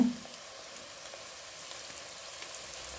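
Asafoetida sizzles in hot tempering oil for cabbage palya, a steady close frying hiss running evenly throughout with no voices.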